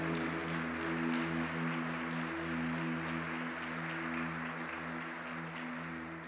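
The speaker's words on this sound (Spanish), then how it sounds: "¿Cuántos podemos dar una ofrenda de palmas a nuestro Dios?" A church congregation gives a round of applause as an offering to God, a continuous wash of many hands clapping at moderate volume, over a steady low hum with tonal bands.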